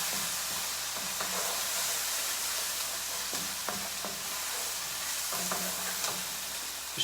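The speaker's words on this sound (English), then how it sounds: "Just fry those mushrooms off a bit." Mushrooms fry in a pan with a soft, even sizzle, broken by occasional clinks and scrapes as they are stirred, all at a low, steady level.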